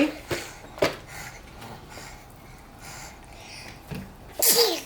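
A baby sneezes several times in quick, close bursts, with soft breaths between them and a louder sneeze near the end.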